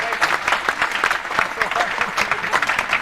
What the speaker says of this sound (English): How about a round of applause for these?